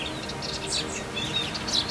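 Birds chirp in a natural setting among trees and flowers, a scatter of bright, quick tweets over a constant soft background hum.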